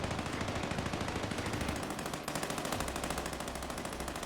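Warzone gameplay against a giant monster brings sustained rapid automatic fire, a dense steady rattle of machine-gun shots with a brief break midway, loud and continuous, no talk over it.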